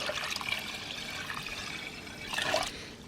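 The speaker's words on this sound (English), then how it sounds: "Throw some water, yeah." Water trickles and splashes into a cooking pot at an outdoor hillside spot where vegan food is being prepared, a steady close-up pour with a brief louder surge near the end and no talking.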